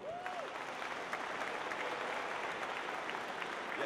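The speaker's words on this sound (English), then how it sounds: "can we give them a round of applause?" Audience applause at a high school robotics district event's opening ceremony, a loud, continuous wash of clapping from a large crowd that holds steady throughout, with a brief whistle at the start.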